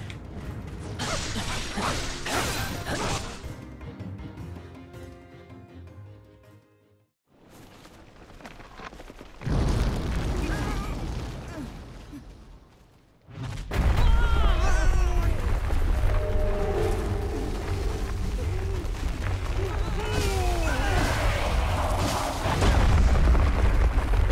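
Bomb explosion in the video game Hyrule Warriors: Age of Calamity, heard amid loud layered game audio: mechanical clanks and creaks, a brief lull, then sustained booming rumbles and effects with no speech.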